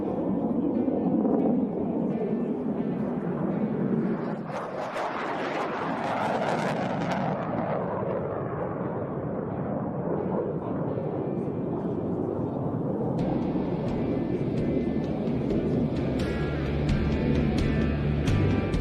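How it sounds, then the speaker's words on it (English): F-16 Fighting Falcon fighter jets of the 64th Aggressor Squadron flying at an air show, a loud continuous jet roar that rises and swells in the middle, with wind buffeting the microphone. "the F-16 Fighting Falcons, better known as the Vipers of the 64th Aggressor Squadron"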